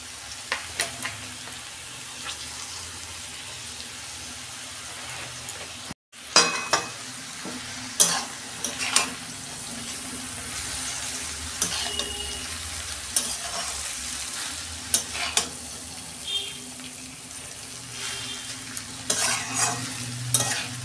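Boiled chowmein is stir-fried with fried vegetables for egg chowmein, giving a long, steady sizzle broken by repeated tossing and scraping strokes in the pan and a brief silent gap early on.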